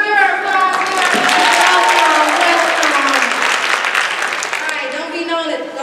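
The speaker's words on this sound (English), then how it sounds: "give her applause" An audience at a senior class skit show claps and cheers loudly as a contestant comes out, with dense sustained applause, whoops and a voice or two rising through the noise before it tapers.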